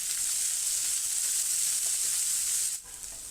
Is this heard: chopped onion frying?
yes